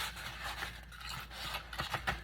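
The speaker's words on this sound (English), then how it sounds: "I'm just going to use the scissors." Scissors cut through thick paper for a large hidden spine journal, giving faint, close rasping strokes followed by a few crisp snips near the end.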